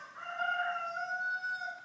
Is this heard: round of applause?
no